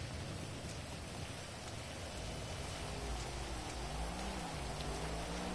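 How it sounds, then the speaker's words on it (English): Steady rain falls in the GTA Online game world, a continuous hiss of drops spread evenly and fairly close, with faint low rumbling tones underneath and no talking. "Oh, and it's raining."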